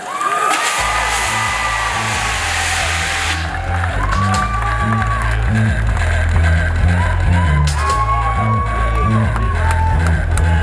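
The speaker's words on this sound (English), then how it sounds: "I want y'all to give a round of applause to Naismith Hall of Famer Grant Hill." Arena crowd at the NBA Experience grand opening at Disney Springs cheers and whoops loudly for a basketball Hall of Famer, with a booming bass-heavy music bed underneath throughout.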